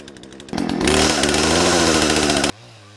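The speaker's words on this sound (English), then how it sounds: "I have 14 inches of raw chainsaw power." A 14-inch chainsaw roars into a loud, steady cut into a large pine tree after a short idle, holding full throttle for about two seconds before dropping back to idle.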